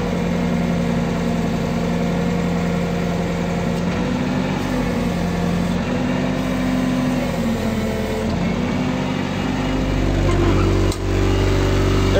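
A Komatsu 1800 kg petrol forklift engine with a carburettor idles steadily up close, a continuous low rumbling hum with slight fluctuations and a brief knock near the end.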